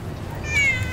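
A single short cat meow rings out briefly over a low indoor background hum, close and moderately loud.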